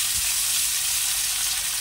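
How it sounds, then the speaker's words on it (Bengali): Fish fries in hot oil, giving a continuous bright sizzle with a dense hiss of popping bubbles, close and unbroken throughout. "এই তেলটা গরম হয়ে গেছে, আগে একটু মাছটা কড়া করে ভেজে নিই"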